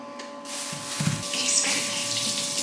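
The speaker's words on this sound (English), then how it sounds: "First, I'm just gonna take 4 pretty large sweet potatoes and wash them." Tap water runs into a sink while four large sweet potatoes are washed, giving a steady hissing splash that builds after a short start, close by with a faint hum underneath.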